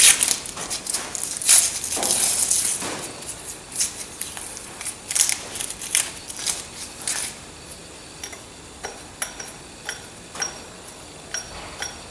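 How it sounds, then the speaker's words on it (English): Masking tape being stripped off a Ferguson TEA tractor part during an overhaul, heard as a run of crackly peeling rips and ticking snaps that are dense at first and then thin out into sparser short tears, close and with no talking. "Get rid of this masking tape."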